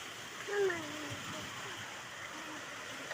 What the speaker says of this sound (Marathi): एवढा जोरात पाऊस आला ना.